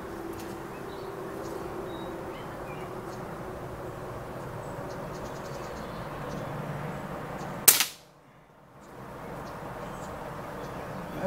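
A Crosman American Classic air rifle fires a single sharp, loud crack near the end, the sound cutting off abruptly into near silence before faint background noise returns; the shot sends a JSB Jumbo pellet downrange.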